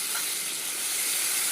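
Red chili and cumin powder masala fried in oil in a pan for a pointed gourd and prawn dish, giving a steady, close broadband sizzle that runs unbroken with no talk.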